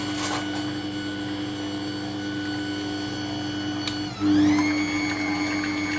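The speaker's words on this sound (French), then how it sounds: "je vous enlève le bruit du batteur" An electric hand mixer whisks cream continuously, a steady close motor whine that shifts up in pitch near the end as the speed changes, with no talking.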